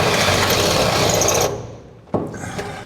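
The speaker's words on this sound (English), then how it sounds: "we'll step up the drill size a little bit and drill a bigger hole" A power drill bores a bigger hole through a bolt on a 1949 Chevrolet gasser frame, a loud steady whir for about a second and a half, then winding down, followed by a sharp clack.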